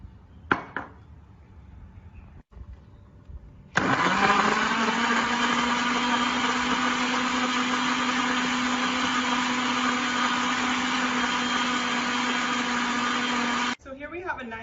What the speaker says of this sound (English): put our things back in our blender to make our smoothie